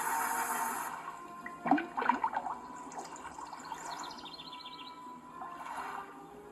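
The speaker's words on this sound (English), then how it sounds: "Now I toss this in the water." Fishing line cast into water in the Nancy Drew game Secret of the Old Clock, a short burst of splashing followed by soft water sounds and faint bird calls, fairly quiet throughout.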